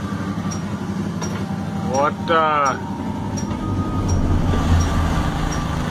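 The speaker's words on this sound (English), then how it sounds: "That's a train, only two cars." A steady rumble of a passing train with a brief squealing, wavering tone midway, and a startled voice speaking briefly over it.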